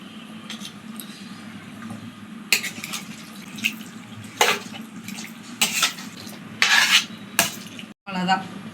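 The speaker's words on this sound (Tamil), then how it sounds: "நான் சிக்கன் வேகிறதுக்காக 1 கிளாஸ் தண்ணி ஊற்றுறேன்" Water is poured into a pan of simmering chicken gravy in a home kitchen, with several splashing bursts and clinks of a utensil over a steady low sizzle and bubbling, close and fairly loud, with no talk.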